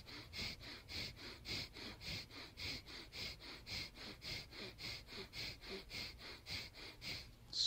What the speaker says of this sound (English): And the rapid breath will feel and sound like this.